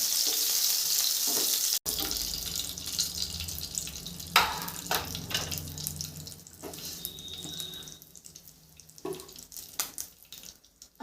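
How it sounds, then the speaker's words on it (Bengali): A short burst of running tap water gives way to bottle gourd frying lightly in mustard oil for a gourd-and-prawn curry. A gentle sizzle continues close by, with occasional stirring scrapes and clinks and no voices. "হালকা করে লাউটা ভেজে নিয়েছি"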